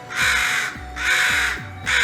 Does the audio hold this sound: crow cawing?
yes